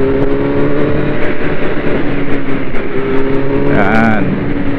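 A Kawasaki Z900 motorcycle engine drones steadily on a bumpy road, then blips and rises briefly in pitch during rev-matched downshifts near the end, with wind and rider noise underneath.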